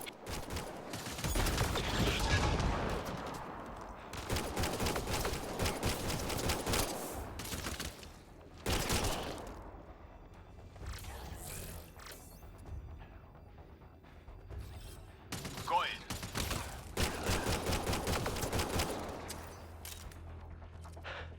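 Gunfire in the sci-fi shooter Mass Effect Andromeda, sustained bursts of rapid automatic weapon fire in waves with brief lulls, loud and close, mixed with mechanical clanks and no talk.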